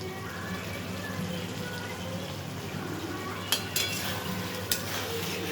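Capsicum being sautéed in a pan, a faint low sizzle under a steady background hum, broken by a few sharp utensil clicks and scrapes near the end.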